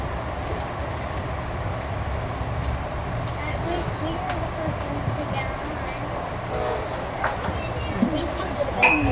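Amtrak Wolverine passenger train running at speed, a steady low rumble and rolling rattle heard from inside a crowded car, with faint voices and occasional clatter over the continuous noise.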